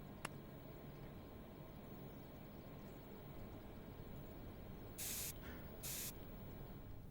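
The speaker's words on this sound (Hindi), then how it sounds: "सब कुछ स्प्रे कर।" Disinfectant spray hisses in two brief bursts, each about a second long, close by over a steady low indoor hum, with no talking.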